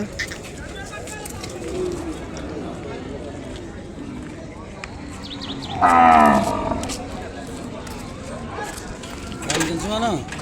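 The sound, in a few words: calf mooing at cattle market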